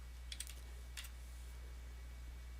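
A handful of quick computer-keyboard keystrokes in two short bursts, clicking faintly over a steady low hum with no voices.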